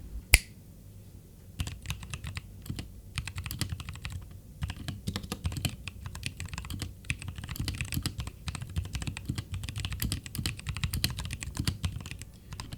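Rapid mechanical keyboard typing on an RK68 with Durock T1 switches, steady clacking keystrokes close up with a sharp click near the start, no voices.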